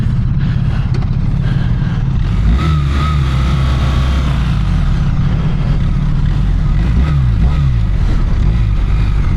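A BMW R1300RS motorcycle engine runs loud and close, a steady low throbbing drone with small swells in pitch as the throttle shifts, continuous throughout.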